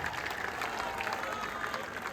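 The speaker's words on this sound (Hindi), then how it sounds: "जोर से बजाइए ताली।" A crowd applauds at a political party launch speech in Bihar, a steady, moderately distant wash of many hands clapping without a break.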